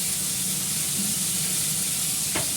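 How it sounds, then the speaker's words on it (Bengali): Egg and potato frying in a pan, with ginger paste, salt and green chilli going in, give a steady, moderately loud sizzle throughout, with a brief stirring scrape near the end. "ডিম আলুটা দিয়ে দিলাম, এর মধ্যে আদা বাটা দেবো, নুন দেবো, কাঁচা লঙ্কা দেবো"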